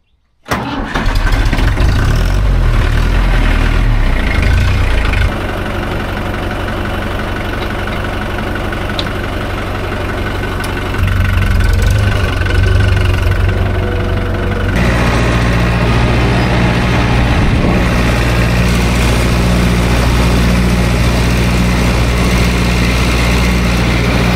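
A tractor engine runs loudly and steadily up close, a low chugging drone that shifts pitch a couple of times as the revs change.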